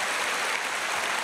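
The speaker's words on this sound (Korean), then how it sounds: "박수하겠습니다" A church congregation applauds to welcome newly registered members at a Sunday service, a steady, dense wash of clapping from a large crowd with no voices on top.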